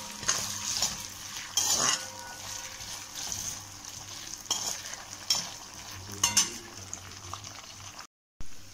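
Sabudana khichdi with curry leaves frying in a pan and being stirred, a steady close sizzle with scraping spoon strokes and occasional clinks against the pan, ending in a brief cut to silence.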